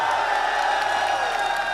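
A loud, dense crowd roars and cheers continuously at a Rocket League World Championship playoff event, with whoops rising out of a steady wall of arena noise and no clear speech on top.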